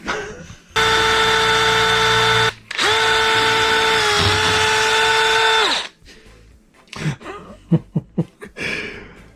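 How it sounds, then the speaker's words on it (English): A power drill with a dull bit whines loudly in two long steady runs, the pitch dipping slightly under load, followed by scattered knocks and clatter. "let's drill those holes"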